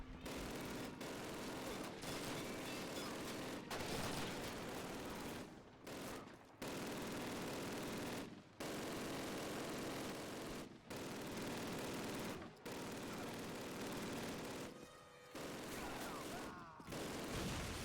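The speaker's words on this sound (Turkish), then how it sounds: "Bizim tank tabi boktan tank olduğu için diğer tankı vuramıyor değil mi?" Sustained gunfire and explosions from a tank battle in Call of Duty 1, loud and dense throughout, with heavy bursts broken by a few brief gaps.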